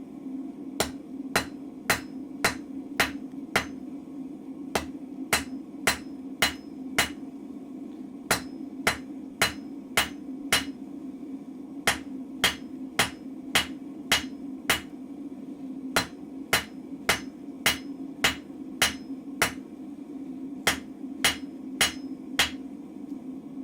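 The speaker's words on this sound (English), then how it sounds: "I'm going to hold it up off the anvil, I'm going to come down here and forge a short square taper." Steady hammer blows ring out on a chisel being forged to a short square taper at a blacksmith's anvil, dozens of sharp, evenly spaced metallic strikes over a constant low hum, with no talking.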